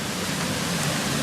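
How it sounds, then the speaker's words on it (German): A brook flows nearby, producing a steady, even rush of water that fills the whole moment without any break or change in level. "wir haben da hinten dran einen Bach"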